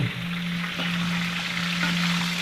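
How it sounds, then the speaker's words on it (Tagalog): Onion and garlic fry in hot oil, a dense, constant sizzle heard up close, with a steady low hum running underneath and no voices. "Yung mantika na yan, yan dyan na natin na lulutuin yung sibuyas at bawang."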